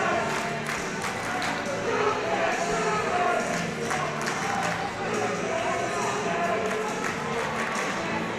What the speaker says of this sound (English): Bearcats crowd getting loud.